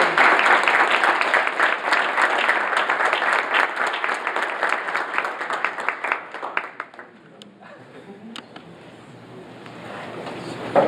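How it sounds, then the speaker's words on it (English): An audience at a sports-economics talk in Atlanta gives Mr. Yamaguchi a round of applause: dense, steady clapping fills the room for about seven seconds, then thins out and fades to faint room noise. "Great, let's give Mr. Yamaguchi a round of applause."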